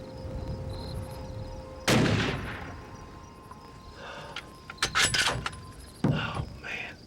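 While deer hunting, a single sharp rifle shot cracks out against quiet outdoor background, followed later by a few fainter rustling and knocking sounds and some hushed talk.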